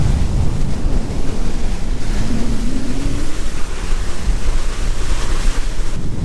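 Motorboat running fast at about 38 km/h against the current across the Wadden Sea off Friesland, with loud steady wind buffeting and rushing water from the hull drowning out the low engine drone.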